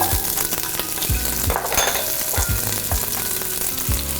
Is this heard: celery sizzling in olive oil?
yes